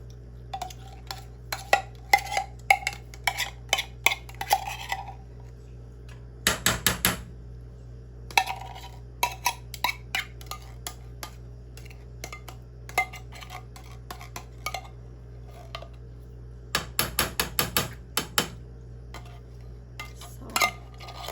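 A utensil scraping and clinking against a pan holding a cheese mixture for shells and cheese, quick metallic scrapes and taps in bursts separated by quiet pauses, with no talking.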